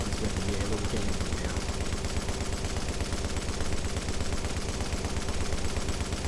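Sustained automatic fire from an M60 light machine gun in The Division video game, a steady rapid rattle of loud shots running unbroken throughout.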